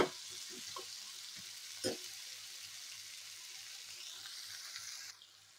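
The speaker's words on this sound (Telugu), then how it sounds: "వంకాయ ముక్కలు వేగుతున్నాయి చూడండి." Brinjal pieces fry in a pan with a soft continuous sizzle, broken by a few light stirring knocks near the start, fairly quiet and close with no talking.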